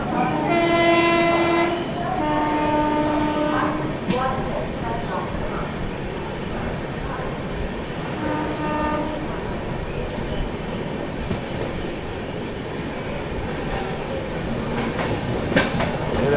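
The Delhi–Yeshwantpur AC Duronto Express runs through Bhopal Junction without stopping, sounding several loud blasts of its horn over a steady rumble and clatter of wheels on the rails.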